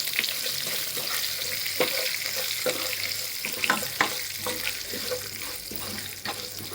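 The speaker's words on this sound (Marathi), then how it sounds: "याचे सगळे आता फोडणी अशी करून घ्यायची" Cumin, fenugreek seeds, ajwain, kalonji and asafoetida sizzle in hot oil as a tempering for a raw mango lunji, a steady hiss and crackle with scattered clicks of stirring close by.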